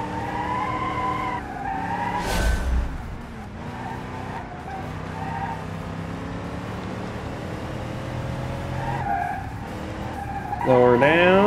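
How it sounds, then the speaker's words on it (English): Car tires squeal repeatedly in the BeamNG driving game, a steady engine drone running underneath with a loud thump near the start and a rising screech at the end. "Squeal the tires all the way"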